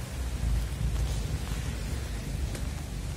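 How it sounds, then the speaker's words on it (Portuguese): Steady, dense rain hisses on a São Paulo street on a cold day, a constant close wash of noise with no talking. "A rua, ó, chovendo, gente."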